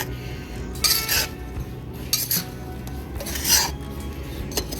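Gritty rasping and scraping of compost being mixed by hand into potting soil for a plant pot, coming in short repeated strokes, close and fairly quiet, with no talking.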